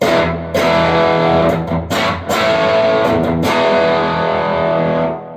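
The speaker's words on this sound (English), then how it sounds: "I'm starting to get real nice tube breakup and overdrive." A Les Paul Junior electric guitar plays through a cranked tube amplifier pushed into natural breakup, with loud, gritty overdriven chords ringing out, choked briefly between strums before sustaining and fading.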